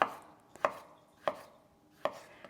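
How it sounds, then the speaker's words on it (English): Knife slicing purple cabbage on a cutting board, four crisp, evenly spaced chops close by, each with a short crunchy thud, no talk. "we're gonna slice them up"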